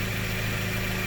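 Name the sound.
car engine running with a misfire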